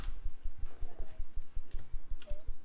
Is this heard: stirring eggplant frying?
no